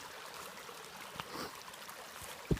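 Water flows steadily down a mountain stream along the Starr Trail, a continuous rushing trickle heard up close with a few brief gurgles and knocks.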